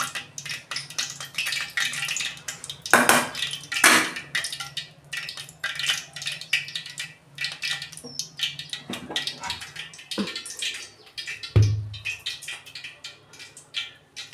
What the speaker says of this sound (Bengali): আমি ফুটো ছুরিতে আমি ঢেলে ফেলছি